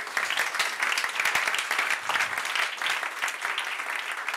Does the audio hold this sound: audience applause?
yes